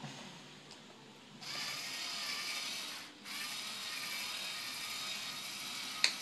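Electric screwdriver removing screws from a Dell Inspiron E1405 laptop, two sustained whirring runs separated by a short pause, close and fairly quiet, with a small click at the end.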